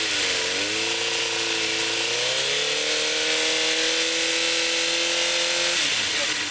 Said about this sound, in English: Let's go ahead and rev it up